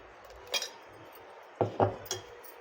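A metal paniyaram pan being handled in a home kitchen, with a few sharp metallic clinks and clatters, one near the half-second mark and a cluster around two seconds, close and separated by quiet.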